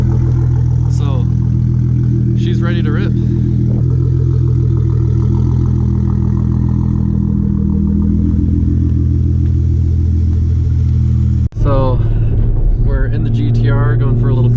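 A Nissan GT-R fitted with 1300cc injectors and a Stage 3 tune cruises along, its engine a steady low rumble from inside the cabin, with voices talking over it throughout.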